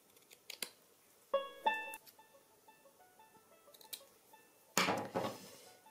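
Scissors snip white border trim from scrapbook paper in a few short crisp cuts, quiet and close, with light paper rustling and handling between the cuts.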